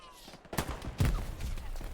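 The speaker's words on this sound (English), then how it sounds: "I think there was a shot and then the explosion." A gunshot and an explosion in the World War II shooter Hell Let Loose, a few sharp bursts with a deeper blast following, set against game background noise.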